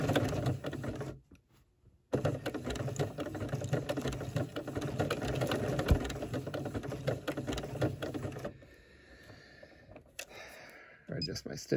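A sewing machine stitches through a fabric-wrapped coiled rope bowl, producing a fast steady mechanical whir in runs broken by short pauses, close and moderately loud, with a person talking nearby.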